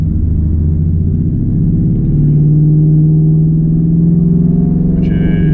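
A Ford Mustang GT engine holds steady at 2500 RPM, giving a loud, continuous, even drone with a faint high whine near the end.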